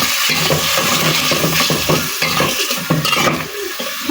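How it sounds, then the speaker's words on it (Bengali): Spices with bay leaves and green chillies fry in a pan and are stirred continuously, a dense close sizzle with soft scraping and rustling throughout and no talking. "মশলাগুলোরে কষিয়ে নেব।"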